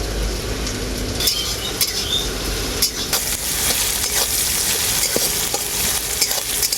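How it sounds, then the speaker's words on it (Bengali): Salted onions fry in a pan with a continuous crackling sizzle, broken by occasional scrapes and knocks of a spatula stirring them. "পেঁয়াজটা আমার ভালো করে ভাজা হয়ে গেছে"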